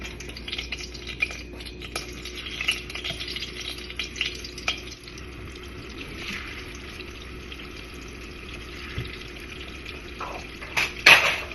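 Meatballs (bola-bola) frying in a shallow layer of cooking oil for sotanghon, a steady close sizzle with occasional stirring clinks and scrapes of a pan throughout.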